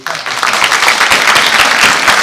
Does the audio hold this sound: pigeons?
no